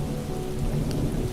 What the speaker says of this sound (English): the thunder and rain will linger a little longer, keeping you company in the quiet of the night